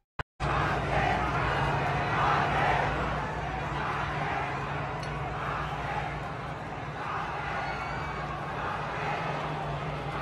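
A rowdy crowd at a Kai Cenat event roars and shouts continuously, a dense wall of many voices that stays loud throughout after a brief quiet start.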